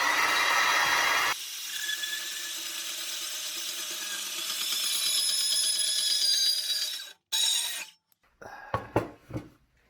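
A bandsaw cutting metal for a backup camera guard, a steady close grinding rasp of the blade through the workpiece that runs for several seconds, then cuts off into brief clanks and handling knocks.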